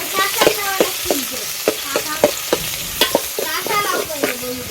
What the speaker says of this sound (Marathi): तेल तापलं आहे कांदा टाकूया